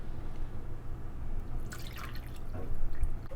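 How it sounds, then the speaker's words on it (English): Milk pours into cake batter for a sponge cake in a short, soft liquid trickle with a few drips, heard close over a steady room hum. "now I'm gonna add some of the milk"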